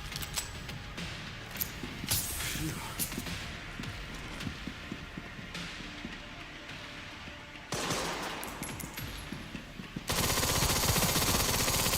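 Rapid bursts of automatic gunfire crack out in the video game Resident Evil Requiem, dense and loud, with a short pause before a sharper, louder stretch of shooting near the end.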